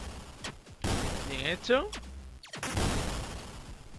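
Gunfire in the space shooter game Enemy Mind: sharp blasts come in a few separated bursts, loud against the game's background, while a voice speaks briefly between shots.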